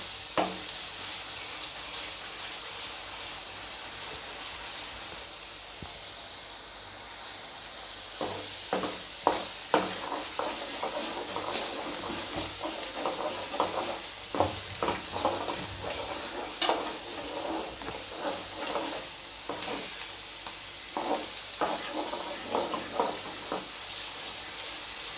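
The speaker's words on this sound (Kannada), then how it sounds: "ಮಸಾಲೆ ಎಣ್ಣೆ ಒಳಗೆ ಕುಡ್ಕೋಬೇಕು ಚಲೋ ತಂಗೆ. ತಳಕ್ಕೆ ಹತ್ಕೋಬಾರ್ದು." Misal masala for Kolhapuri misal pav fries in oil in a pan, a constant bright sizzle broken by repeated scraping and clinking as a spoon stirs it, close and alone without speech.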